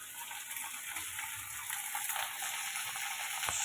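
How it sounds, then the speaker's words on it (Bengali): An egg fries in a pan with a faint, steady crackling sizzle and no voices. "ডিম ভাজা বসিয়েছি।"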